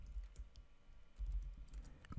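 Soft keystrokes on a computer keyboard while a terminal command is entered on Ubuntu, a quick series of quiet clicks with a few louder taps near the end.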